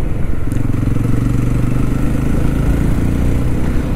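A 2023 Jawa 42 motorcycle engine runs steadily at idle, a low continuous rumble with a constant throb and no other sounds.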